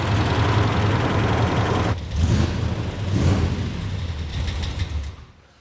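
Loud supercharged RAM 1500 truck engine running rough with a heavy low rumble and uneven pulsing, then fading out.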